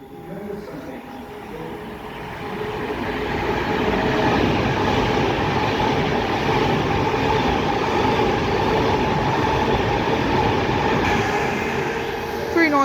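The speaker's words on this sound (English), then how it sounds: "passing through now is a Pendolino doing a service from Preston to London Euston" A Pendolino express train runs through Rugby station on the West Coast Main Line, a loud, steady roar of rolling stock building over a few seconds and holding close by, with rail clatter and faint wheel squeal throughout.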